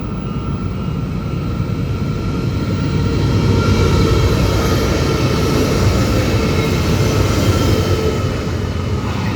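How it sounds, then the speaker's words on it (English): A freight train led by an NR64 locomotive with NR31 and NR7 trailing rolls past a station platform, a loud steady rumble of engine and wagons sustained close by throughout, with no talk. "Got some freight passing platform number 1, NR64, front motor"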